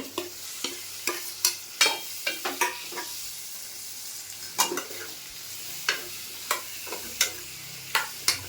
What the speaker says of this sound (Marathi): आता मी यात परतून घेते हे